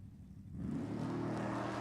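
A Hemi and a big blown Chevelle launch off the line at a drag strip, the engine roar swelling suddenly from a low rumble into a loud, sustained rush heard from a distance.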